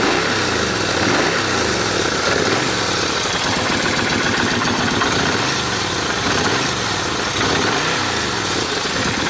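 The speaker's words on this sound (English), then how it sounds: "It is carbureted, but it starts up easily and idles really good." A carbureted 2004 Kawasaki Vulcan 1500 Classic motorcycle engine idles steadily close by, a continuous buzzy rumble with a slight rhythmic pulse throughout.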